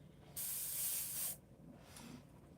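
An airbrush lets out a single steady hiss of spray lasting about a second, close and fairly loud. A much fainter, brief puff follows, with no talking.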